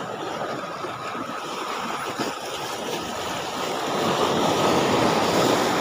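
Sea waves washing onto a rocky Palawan shore during shore casting, the day after strong wind, with steady surf rushing in and wind buffeting the microphone, the wash swelling louder toward the end.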